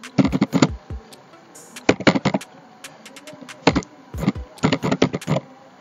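Keys clatter on a computer keyboard while typing a command into a command prompt, coming in quick close bursts of crisp taps separated by short pauses.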